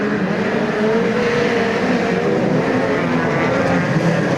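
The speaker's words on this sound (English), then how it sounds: "This is heat number 2 of the New Zealand Midget Car Championship" Midget race cars at a New Zealand Midget Car Championship heat at Ruapuna Speedway, engines roaring steadily and loud for the whole stretch as several cars circle together, with no pauses or quiet gaps.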